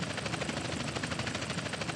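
A helicopter in the video game GTA San Andreas hovers nearby with a steady, loud, pulsing rotor whir and engine drone that runs unbroken for the whole two seconds.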